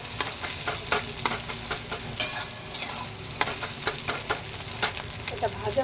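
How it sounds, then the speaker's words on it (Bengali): Three eggs frying in a pan for an egg tarka, a steady close sizzle and crackle with repeated sharp scrapes of stirring, no one talking. "তিনটে ডিমকে সুন্দরভাবে ভেজে নিচ্ছি।"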